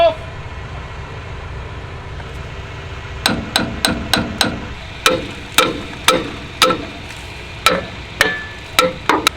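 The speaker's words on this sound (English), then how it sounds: "I'm just gonna whack him with a hammer while he tries to release them." Sharp metallic hammer blows on John Deere tractor brakes ring out in an uneven series, a dozen or so strikes over a steady mechanical hum, close and loud.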